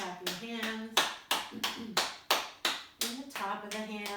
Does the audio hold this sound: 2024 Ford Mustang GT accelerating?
no